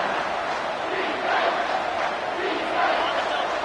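A big American football stadium crowd roars in a loud, sustained wash of noise that swells twice, filling the whole clip with no clear speech over it.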